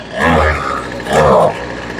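A Poulan Pro gas string trimmer engine running steadily at idle, off choke, its buzzing drone swelling twice in brief surges before settling back.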